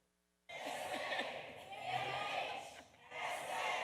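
A crowd at a federal government panel event bursts into loud cheering and whooping after a moment of quiet, with mixed voices and laughter swelling and dipping before a second surge.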